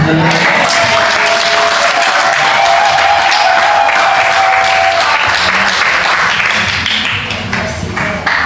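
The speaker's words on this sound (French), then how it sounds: "Applaudissons pour le Seigneur." Loud, steady applause from a large church congregation fills the whole stretch, dense clapping that tapers slightly toward the end, with a faint tone underneath.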